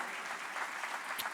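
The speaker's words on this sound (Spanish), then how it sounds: "Dale un fuerte aplauso a Jesús de Nazaret." A congregation applauds in a cathedral church service, a short, faint wash of many hands clapping with a brief sharper clap near the end.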